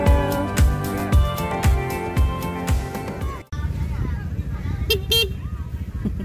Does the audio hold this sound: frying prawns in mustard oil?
no